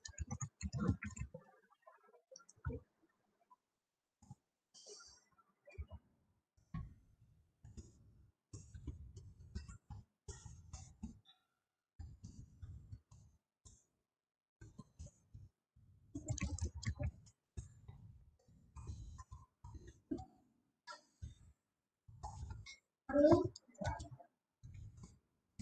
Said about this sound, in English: Hold on, I'm just typing the answer to you.